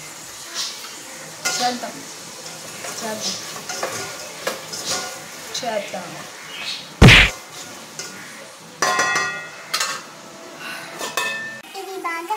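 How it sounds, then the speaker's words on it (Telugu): Food frying in a pan during home cooking of a chicken dish, with intermittent sizzling bursts, spoon stirring and scraping against the pan, and a sharp clatter midway, under occasional brief speech. "ఇది బాగా ఫ్రై అవ్వాలి ఫ్రెండ్స్, గోల్డెన్ కలర్లో ఫ్రై అవ్వాలి."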